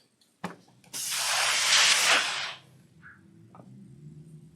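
A steam iron hisses in one long loud burst of about two seconds while pressing fabric for a circle table runner, after a brief click, then fades to quiet background.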